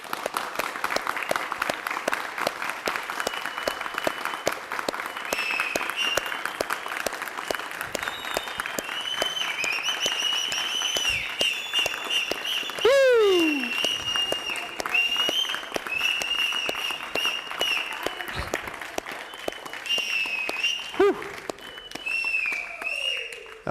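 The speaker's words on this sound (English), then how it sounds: "give yourselves a round of applause" Sustained applause from a large audience at an outdoor Nithyananda Yoga festival after a record attempt, steady dense clapping over the full stretch with scattered voices and occasional whistles or cheers rising above it.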